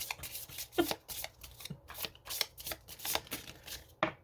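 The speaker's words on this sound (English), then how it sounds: "No, I shuffle cards for a living" Playing cards are riffled and shuffled in quick repeated bursts of crisp flapping, close by, with no voices.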